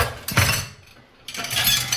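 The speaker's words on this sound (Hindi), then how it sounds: "तो अब मैं करूँगी सबसे पहले तो बर्तन साफ" Dishes being washed by hand in a home kitchen, with two bursts of scrubbing, rinsing and clattering utensils separated by a brief lull, close and moderately loud.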